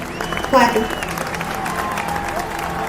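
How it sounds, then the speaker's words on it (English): Cult members clap in a horror film scene, a brief applause-like burst of clapping that rises sharply and then settles into a steady wash of crowd noise with voices mixed in. "In the cult, just chilling, clapping."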